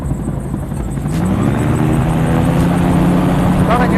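MTO autogyro flying near a hover in a slow descent toward a runway, its engine and rotor giving a loud, steady droning hum with beating rotor pulses throughout, close and continuous, swelling slightly after the first second.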